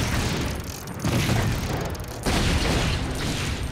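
Gate blasted open by bazooka shots in the LEGO Indiana Jones video game, with dense, loud explosive rumbling and mechanical clatter that surges in two bursts, the second arriving about halfway through.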